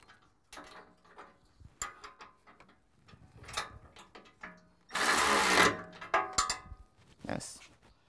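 A 19mm socket wrench ratchets on the bolts of an aluminum bumper going onto a 2005-or-later Nissan Xterra, clicking in short irregular bursts close by, with a louder rushing burst partway through and a voice talking in between.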